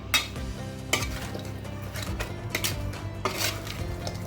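Beef with two ripe tomatoes being stirred in mustard oil in a pan for a beef khichuri: scattered metallic scrapes and clinks of a spoon against the pot over a low, soft sizzle, close up with no voices.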